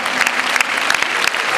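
A short, dense burst of applause for sailor Samantha Davis at a French sports presentation, with many hands clapping close and loud throughout.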